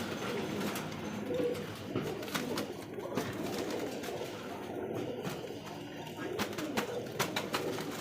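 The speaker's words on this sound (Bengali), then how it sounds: "এটাও ক্লাবের রেস করা কবুতর" Racing club pigeons with leg tags coo softly and continuously at close range, their low murmuring calls layered with light fluttering and rustling in the loft.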